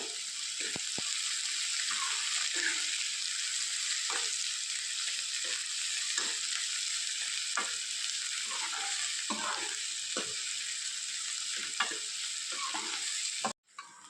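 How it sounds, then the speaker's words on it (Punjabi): Finely chopped onions frying in a pan while preparing aloo palak sabzi, a steady close sizzle with occasional stirring scrapes, continuous and alone throughout before a brief cut at the end. "ਹੁਣ ਪਾ ਦਾਂਗੇ ਆਪਾਂ ਦੋ ਪਿਆਜ਼ ਬਰੀਕ ਕੱਟੇ ਹੋਏ ਤੇ ਆਏ ਨੂੰ ਆਪਾਂ 2-3 ਮਿੰਟ ਵਾਸਤੇ ਭੁੰਨ ਲਾਂਗੇ"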